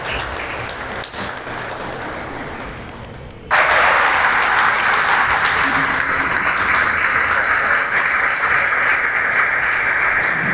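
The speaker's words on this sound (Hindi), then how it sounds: "जोरदार ताली से स्वागत करेंगे उनका।" Audience at a community seminar bursts into loud, sustained applause welcoming a speaker on stage, a dense wall of clapping that holds steady for several seconds after quieter crowd murmur.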